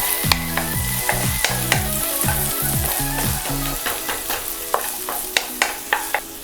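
Onions fry and are stirred in a pan, producing a continuous crackling sizzle over a low hum, punctuated by rapid, evenly spaced spatula taps and scrapes against the metal.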